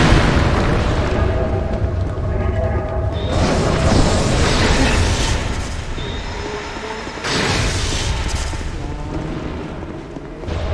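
Exploding cannon lizards in Dark Souls 2 set off loud, rumbling blasts, with dense roaring bursts that swell and fade across the whole stretch and a fresh surge around the middle.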